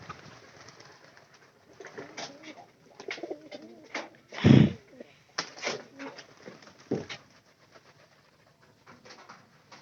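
Pet pigeons coo in low, intermittent phrases around a loft, interrupted by a loud thump and scattered rustling, with occasional speech and handling noises nearby.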